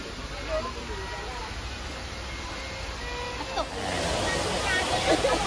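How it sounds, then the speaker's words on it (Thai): Busy crowd ambience at Sai Yok waterfall in Thailand on a Sunday: a steady wash of rushing water under a murmur of many distant voices, growing a little louder and denser partway through. "อันนี้เป็นบรรยากาศที่น้ำตกนะครับผม"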